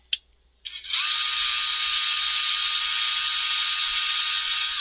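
A power drill runs continuously and loudly at a steady high whine while customizing Hot Wheels Monster Jam toy trucks, starting after a brief click and short spin-up.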